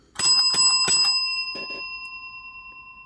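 A bell rings three quick, bright strikes, pauses, then gives a softer fourth; its clear tone lingers and fades slowly at the end of a boxing fight.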